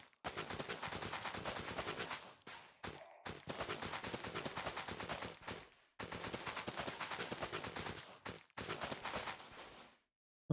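Rapid crackling bursts of fireworks launched in a farming video game, dense popping volleys in several loud runs broken by short silences, no talk over them.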